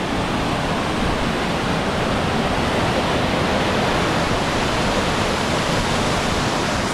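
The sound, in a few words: Wahkeena Falls waterfall, Columbia River Gorge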